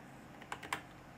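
Two or three quick, faint keystrokes on a Windows computer keyboard, close and alone over a soft hiss.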